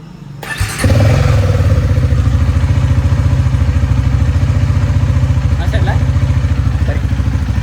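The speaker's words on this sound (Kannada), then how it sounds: "ಒಂದು ಸಣ್ಣ ಕೋಲ್ಡ್ ಸ್ಟಾರ್ಟ್ ಮಾಡೋಣ ಬರ್ರಿ" A motorcycle engine cold-starts with a brief crank, then settles into a loud, steady, close-up idle with a rapid thumping pulse that runs on without a break.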